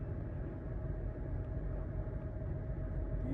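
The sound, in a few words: loud truck passing by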